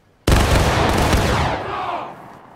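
A line of soldiers discharges muskets together in the War of Rights video game: a sudden loud, thick blast of overlapping shots that rolls on for about two seconds, then fades into a ringing tail.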